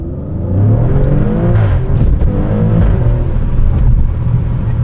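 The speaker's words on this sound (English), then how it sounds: "Listen to this exhaust." A 2023 Maserati Grecale Trofeo exhaust booms loudly and steadily as the SUV accelerates with the windows down, a sustained rising growl with no talking over it.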